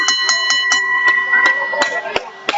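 At a professional wrestling show, a ring bell clangs in a rapid series of metallic strikes over crowd noise, the ringing tones sustaining between hits before the last few louder dings.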